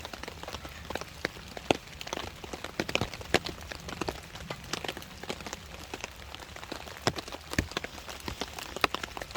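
Steady rain patters on a surface at a mountainside hammock campsite, a dense even hiss with scattered sharper drops, constant throughout with no voices.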